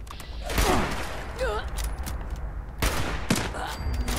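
Bursts of gunfire in the online game Fallout 76, a rapid volley early on with further shots and clatter following, heard alongside game effects and a voice.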